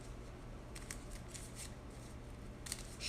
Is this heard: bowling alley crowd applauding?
no